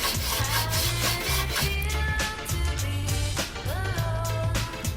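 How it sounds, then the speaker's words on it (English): Steady back-and-forth rubbing strokes of hand sanding a small additively manufactured stainless steel part, rhythmic and close, with no talking. "It will work more smoothly if I do some sanding."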